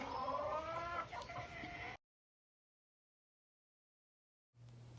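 A hen recovering from water belly clucks softly and close for about two seconds, then falls silent before a faint low hum returns.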